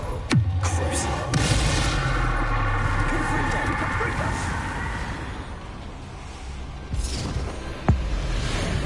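Bombarda and Confringo spell blasts in Hogwarts Legacy: several sharp booming impacts, one at the start and more near the end, over a continuous roaring battle din.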